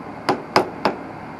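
Three sharp taps of a leather hammer on metal, evenly spaced, close by and clear against a quiet background, during a Yamaha DT250 motorcycle tank and front end install.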